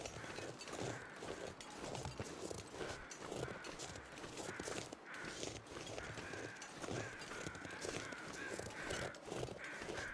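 Crows cawing in a snowy Canadian wilderness in The Long Dark, faint and distant calls over a dense, steady ambient wash with soft crunching movement.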